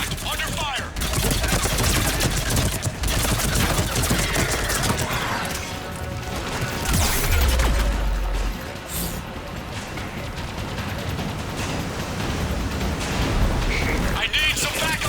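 Heavy, sustained gunfire from a Mass Effect 3 firefight, dense overlapping shots and bursts that stay loud throughout, with a voice calling out over the combat.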